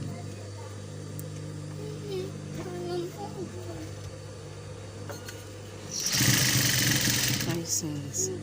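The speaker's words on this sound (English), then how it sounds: "Just sew it down with 1/2 inch." A sewing machine stitches a shirt collar seam at a 1/2-inch allowance, a steady close motor hum with a louder, faster burst of rapid stitching toward the end, with voices talking underneath.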